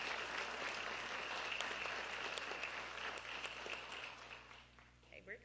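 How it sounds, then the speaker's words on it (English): A crowd applauds sponsors at a West Virginia Department of Education recognition ceremony for teachers and service personnel, a fairly quiet, dense wash of clapping in a hall that gradually thins out toward the end. "can we get one last round of applause for all our sponsors present?"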